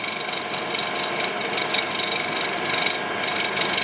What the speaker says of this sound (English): we're nipping off the nose of the clamp there.